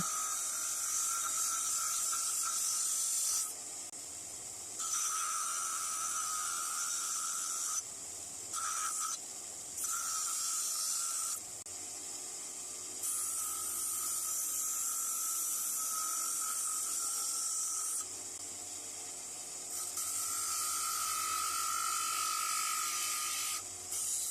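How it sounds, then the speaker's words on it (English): A bench sander shapes a chiseled lump of beech or similar hardwood for a hammer restoration, giving long steady abrasive whirring passes that cut in and out with short pauses, close and fairly loud with no talking. "Take it over to the sander and shape it."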